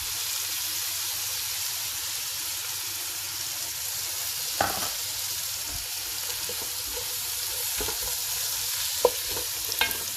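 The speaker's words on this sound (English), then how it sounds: "stir in about 2 tablespoons of flour" Flour being stirred into sizzling vegetables, including carrots, for a chicken stew: steady frying hiss throughout, with a few soft scrapes and clicks of the spoon against the pan.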